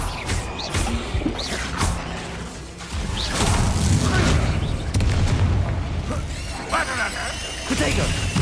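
A Bombarda spell explosion in the video game Hogwarts Legacy, part of a combat sequence: heavy booms and crashing impacts strike amid other spell effects, while a voice speaks over the action.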